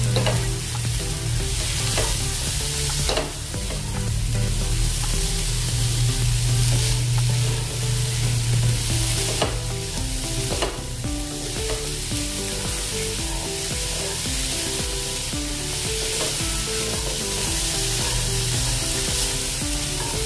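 Sabudana khichdi fries loudly in a pan as rock salt is stirred in, producing a constant close sizzle with steady scraping and stirring throughout.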